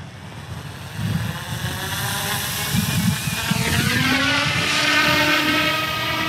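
An Eachine E250 AH-64 Apache RC helicopter spins up, its rotor and motor whine rising in pitch and growing louder into a steady buzzing drone as it lifts off and flies nearby.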